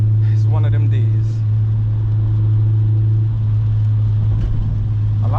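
An 8th gen Honda Civic Si drives through rain with a steady, loud low exhaust drone from inside the cabin, accompanied by road and rain noise and brief background sounds.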